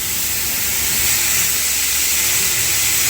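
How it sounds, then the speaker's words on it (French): Steam hisses from a pressure cooker cooking chicken, a loud, steady, unbroken rush of bright noise that holds an even level for the whole stretch, with no voices. "Là, il y a une très forte vapeur, donc attention, c'est très dangereux."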